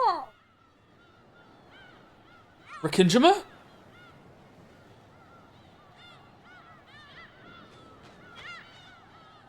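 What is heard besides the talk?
seagull sound effect in video game Pragmata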